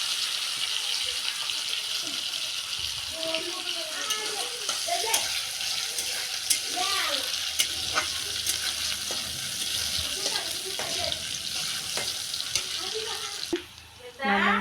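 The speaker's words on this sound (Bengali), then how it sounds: "এখন আমি পেঁয়াজটা ভেজে নেবো লাল লাল করে" Onions fry in oil in a pan until browned, a steady dense sizzle throughout with occasional stirring and scraping, close and continuous.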